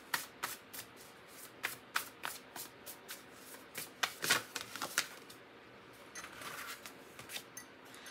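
Playing cards being shuffled for a tarot-style advice reading: a run of crisp riffling and snapping bursts in an irregular rhythm, close and fairly quiet, with no talking.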